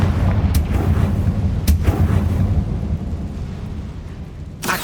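A Confringo fire spell explodes in Hogwarts Legacy, a deep rumbling blast with a few sharp cracks, followed by a fading roar and a final bright burst.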